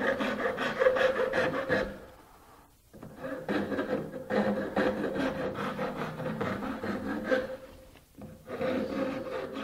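A woodworking rasp files round wooden tenons for a quilt rack, with repeated close rough rubbing strokes in long steady runs, two brief pauses between them and no talking.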